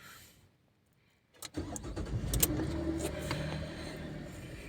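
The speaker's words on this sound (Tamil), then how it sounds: "கார் ஸ்டார்ட் பண்ணிக்குவோம்" A car engine cranks and catches after a quiet pause, then settles into a steady, fairly close idle with no talking.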